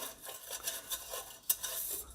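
Scrubbing inside the walls of a Cosori electric kettle, giving soft, repeated scraping and swishing strokes with a brighter scrape near the middle, close and moderately quiet, with no talking.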